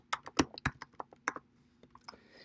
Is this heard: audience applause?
no